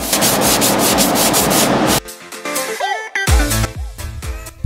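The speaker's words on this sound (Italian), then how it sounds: "Iniziamo a carteggiare con abrasivo P150." P150 abrasive sands UV body filler on car bodywork: two seconds of loud, dense rhythmic scraping strokes close by, then sparser rubbing mixed with faint tonal chirps and thumps.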